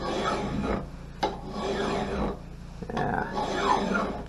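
A file is drawn across an axe head to sharpen its bevel, producing rhythmic rasping strokes of about a second each, close and fairly quiet, with brief pauses between passes.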